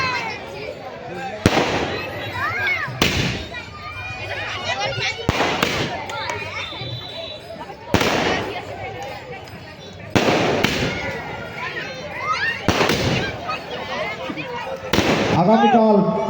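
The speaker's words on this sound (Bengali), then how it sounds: "চলছে আতশবাজি প্রদর্শন।" Fireworks burst at a night festival fire and prayer gathering, sharp loud cracks every couple of seconds with crackling tails, under a voice making continuous announcements.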